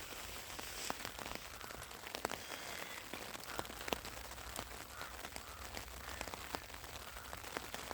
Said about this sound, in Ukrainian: Дощик падає